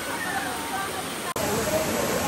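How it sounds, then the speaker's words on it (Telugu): Rushing water of Valasa Waterfalls near Maredmalli, a steady broadband roar filling the whole stretch without a break except for one brief dropout, close and loud with no talk over it. "మెయిన్ వాటర్ ఫాల్ మన వెనకాల ఉంది."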